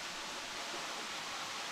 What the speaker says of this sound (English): we found this little cute little waterfall over here